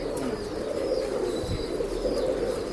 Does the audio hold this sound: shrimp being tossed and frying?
no